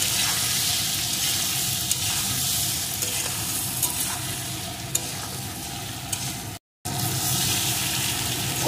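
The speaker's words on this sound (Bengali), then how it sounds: "কচুটা সুন্দর করে এখানে ভেজে নিয়েছি" Taro (gathi kochu) frying and being stirred in a pan, a steady broadband sizzle with scraping stir sounds throughout, broken by a brief gap of silence near the end.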